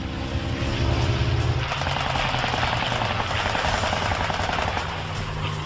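Machine guns of an F4F Wildcat fighter plane fire in sustained bursts over the loud, steady roar of its propeller engine in a World War II dogfight, a dense rattling that continues without a break.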